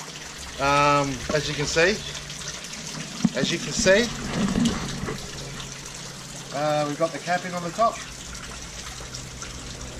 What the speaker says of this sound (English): The waterfall's still going.